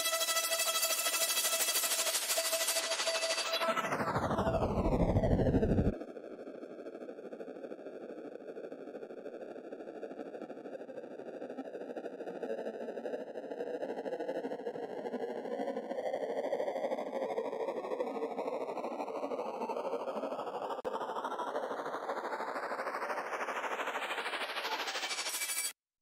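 A bitcrushed guitar riser effect on its own: a harsh, gritty noise burst gives way to a long, steadily rising digital sweep with aliasing overtones climbing and thickening over about twenty seconds before cutting off abruptly.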